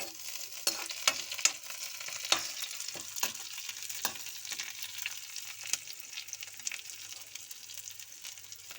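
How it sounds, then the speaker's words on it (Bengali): Chopped onion and green chilli fry in oil for paneer bhujiya, a steady soft sizzle broken by sharp clicks and scrapes of stirring, close up with no talking. "প্রথমে তেল দিয়ে পেঁয়াজটা একটু লাল লাল করে ভেজে নিচ্ছি।"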